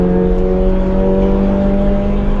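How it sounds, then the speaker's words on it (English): A Toyota GR86 engine pulls hard on a race track, a loud continuous drone with a steady low tone heard from inside the car. "that low-end torque, the engine feels a lot less reluctant to go than the previous version of the 86"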